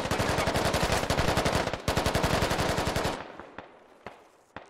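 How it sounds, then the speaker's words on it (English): Sustained automatic gunfire in the Squad video game, a rapid, evenly spaced burst that pauses briefly and resumes, then thins into a few scattered single shots fading off. "there is some supporting fire coming in from the rest of the British team to the south"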